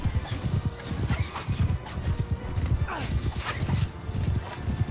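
Galloping horse hooves in Mount & Blade II: Bannerlord pound in a fast, loud rhythm, with a neigh rising partway through and talking in the background.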